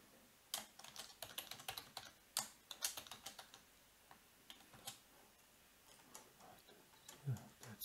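Clicky computer keyboard typing in short irregular bursts of keystrokes, fairly close and alone, with brief pauses between runs.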